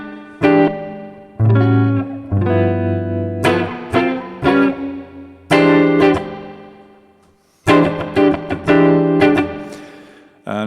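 Electric guitar playing a chord through a Twin Reverb amp emulation in a studio setting: loud strummed chord stabs in bursts, each left to ring and decay into heavy reverb, with short silent gaps between.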